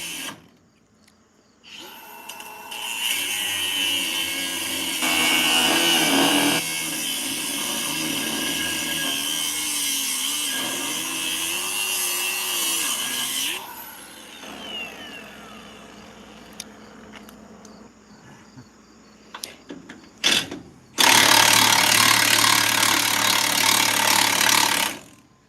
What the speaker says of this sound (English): a bolt only has so long and then the grinder comes out.